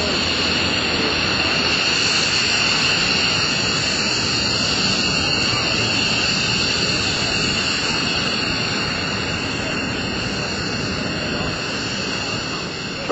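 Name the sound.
Lockheed C-130J-30 Hercules aircraft approaching to land at airshow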